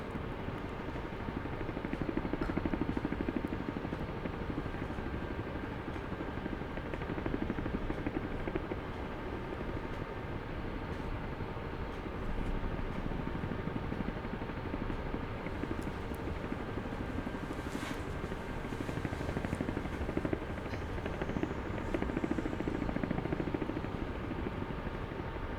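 Ka-50 attack helicopter in the flight simulator DCS, cruising at altitude: a steady, dense rotor and turbine drone holds at even loudness throughout with no speech over it.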